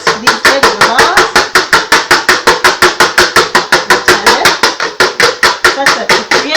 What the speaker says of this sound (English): We are whisking such that we have enough air in the eggs